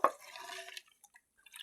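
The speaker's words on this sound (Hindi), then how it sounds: "तुखमलंगा ऐड करने के बाद अच्छे से मिक्स करना है।" A jaggery drink with basil seeds is stirred in water, giving a quick liquid clink and slosh at the start. Faint drips and small splashes follow over a second or so.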